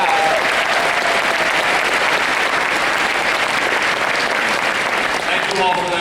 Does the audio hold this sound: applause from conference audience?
yes